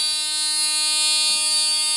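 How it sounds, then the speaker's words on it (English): A steady high-pitched electrical whine and buzz from a spark plug arcing to ground runs throughout, with a faint crackle near the middle. "That noise you hear in the background is I got a spark plug"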